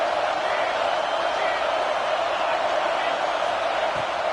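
Steady stadium crowd roar from a college football video game, an Alabama versus Baylor matchup, forms a dense, unbroken wash of cheering with no distinct individual voices.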